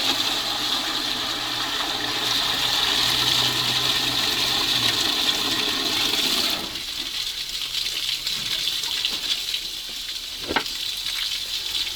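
Water draining and splashing from a Praga V3S truck after it was submerged in a swamp: a steady close hiss and trickle that drops away partway through, leaving a quieter trickle with a brief knock.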